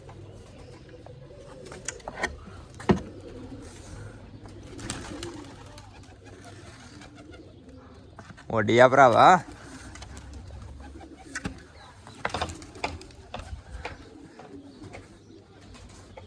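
Pigeons close by give a short burst of cooing midway, amid soft rustles and scattered taps, with someone speaking now and then.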